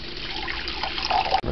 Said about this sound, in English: We might have to add 1/4 more water.